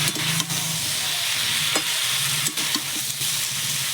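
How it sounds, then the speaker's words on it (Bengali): Mustard paste fried in a pan for a silver carp dish with data, potato and eggplant makes a loud, continuous sizzle broken by several sharp scrapes of stirring. "আর দিয়ে দেবো সর্ষে বাটা একসঙ্গে দিয়ে ভালো করে কষিয়ে নেবো সর্ষের সঙ্গে"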